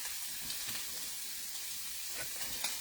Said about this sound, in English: So that you can hear the mass sizzles that take place during that time.